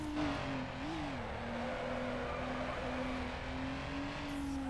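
A car drifting in Need for Speed Underground holds a steady, droning engine note that wavers briefly, with a continuous tyre-scrub hiss, sustained and close throughout.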